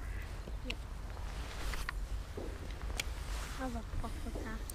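A duck quacks several times at a fishing spot beside water, with short nasal calls scattered through the clip, most clearly near the end, against steady outdoor background noise and faint voices.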